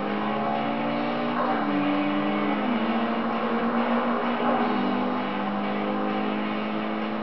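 A steady, droning car engine and exhaust in the video game Tokyo Extreme Racer 3 hums continuously, its pitch shifting slightly up and down a few times, with no talking over it.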